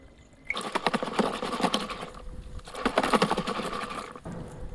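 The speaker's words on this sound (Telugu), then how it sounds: "ఇప్పుడైతే వాటర్ పోసుకొని చిలికేద్దాం." Curd and water churned into buttermilk in a clay pot with green chillies and salt. The churning makes a rough, rapid rhythmic swishing and slapping in two sustained bursts with a short pause between them, close and fairly loud.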